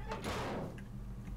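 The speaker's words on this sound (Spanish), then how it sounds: "Ah, puerta." In the game 7 Days to Die a door swings open in one short, muffled scraping whoosh lasting under a second, with a low rumble of ambience underneath.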